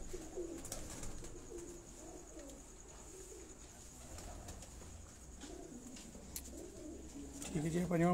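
Racing pigeons on a Sialkot rooftop give low, throaty coos in a steady run of phrases, with a voice talking over them and a louder burst of cooing at the end.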